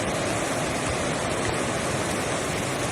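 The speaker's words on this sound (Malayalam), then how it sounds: "കുത്തിയൊലിക്കുന്ന പുഴയാണ്" A fast-flowing river torrent in the Kanthanpara forest area of Wayanad rushes steadily, a dense, loud, unbroken roar of water with no voices.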